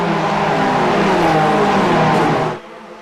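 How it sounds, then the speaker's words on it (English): BMW race cars in the iRacing sim's BMW M Power Tour accelerate with a loud, rising engine roar that cuts off abruptly near the end. "And now we start accelerating."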